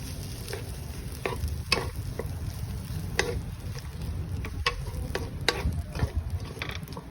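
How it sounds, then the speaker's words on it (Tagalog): A spoon stirs corn, all-purpose cream and pepper in a pan, a soft low simmering bed broken by irregular scraping clicks and knocks against the pan, close and moderately quiet. "Okay, pepper, we're gonna stir"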